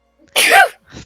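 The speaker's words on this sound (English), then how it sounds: "sneezes very loud" A single loud, sharp sneeze bursts out, followed by a brief softer breathy tail.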